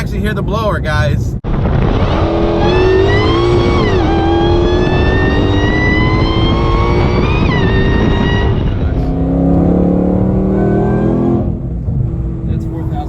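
A 1000hp 2020 Shelby GT500 pulls hard from a highway roll, its supercharger blower whining in rising tones over a loud, steady engine roar with wind noise, then easing off near the end.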